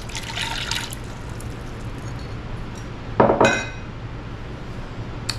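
A half cup of water goes into a bowl of chocolate cake batter in a home kitchen, with a brief soft trickle early and a short splash with a clink of dishes midway, over a steady low hum.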